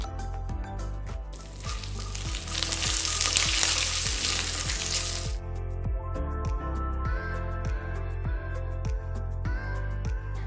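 Mustard seeds, dried red chilies and curry leaves tempering in hot oil give a loud, crackling sizzle burst that peaks early, then eases into a softer fry, with background music playing throughout.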